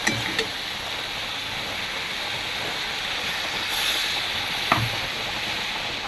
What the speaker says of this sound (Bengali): দেখো বন্ধুরা আমি এখন মশলাটা দিয়ে নাড়াচাড়া করে নিচ্ছি